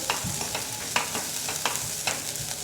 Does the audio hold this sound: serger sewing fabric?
no